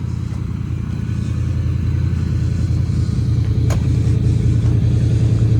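A lowered mid-80s Chevrolet Silverado square body truck engine idles nearby with a steady, deep rumble that builds slightly, plus one brief clack partway through.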